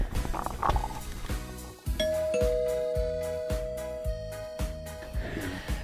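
A doorbell at a house's front door chimes with sustained ringing tones held over a steady background, fairly loud and close, as a florist arrives to deliver flowers.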